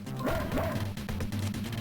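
A stray dog in the video game Mother 3 gives a quick run of yipping, whimpering barks, loud and close over a steady synthesized game background.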